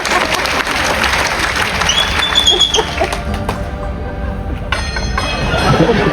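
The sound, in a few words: audience applauding a rope and ring trick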